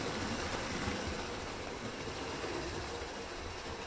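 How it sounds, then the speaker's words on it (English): Steam locomotives 4560 and 4589 double-heading a train past at a heritage railway gala, giving a loud, steady, close rumble and hiss that fills the whole stretch, with no talking. "Here goes the double header to end the gala."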